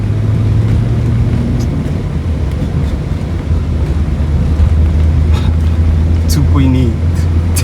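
A Toyota Cressida's 2.8 inline-six 5M-GE engine hums as a steady low drone under heavy wind buffeting, a continuous, fairly loud rumble with faint higher chirps late on.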